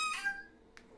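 A single short, high meow from a cat, followed by a faint click, in a quiet room.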